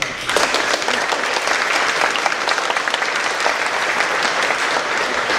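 A seated audience in a hall claps steadily, a dense and loud applause holding at an even level for several seconds with no talk over it.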